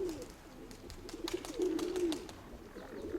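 Pigeons frightened by a nearby hawk and rook give soft, low cooing calls outdoors, repeating over a steady bed of background noise with no talking.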